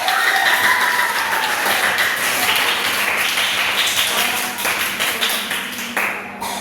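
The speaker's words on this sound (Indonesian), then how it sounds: "Oke, tepuk tangan kelompok satu." A classroom of students applauds a presenting group, loud close clapping filling the room continuously for several seconds before thinning toward the end.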